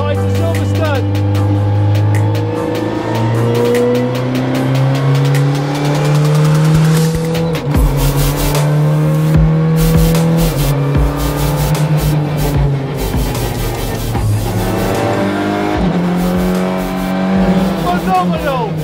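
A Honda car on its first lap of the Silverstone circuit holds a loud, steady engine drone that rises and falls through gear changes, with brief bursts of acceleration close to the microphone.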